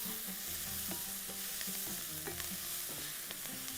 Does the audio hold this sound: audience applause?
no